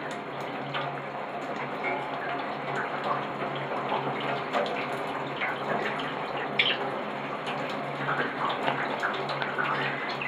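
Steady running water from a shower spraying birds nearby, continuous with faint splashes and a voice occasionally audible underneath.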